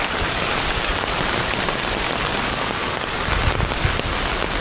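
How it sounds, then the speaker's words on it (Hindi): Heavy village rain pours steadily in Odisha, a dense, continuous hiss of drops drumming on surfaces, loud and close throughout with no voices. "खतरनाक वर्षा है"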